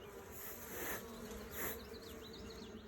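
Italian honeybees buzz densely and continuously around an open hive during an inspection. The close, swelling hum rises and falls as individual bees pass near.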